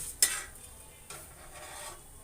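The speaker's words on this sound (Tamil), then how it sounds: "ஆமாம், எண்ணெயில் தானே போட்டு வதக்குறோம்." Chillies sautéing in oil in a pan for ridge gourd peel chutney make a soft background sizzle, broken by two sharp metallic scrapes of a spoon stirring, close by.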